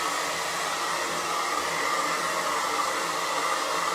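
Blow dryer running continuously, a loud steady airy whir held at an even level with no talking.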